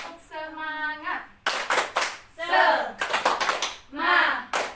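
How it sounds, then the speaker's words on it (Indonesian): A school class claps a rhythmic cheer together, with sharp bursts of clapping from many hands in a quick pattern, alternating with children's chanting voices. "1, 2, 3, tepuk semangat."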